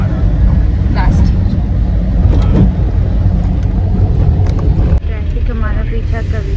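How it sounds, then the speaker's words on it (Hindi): Road traffic noise in Kolkata: a loud, continuous low rumble of passing vehicles with scattered horn-like tones, persisting throughout alongside talking voices. "हम जहाँ जाएं ट्रैफिक हमारे साथ चलता है।"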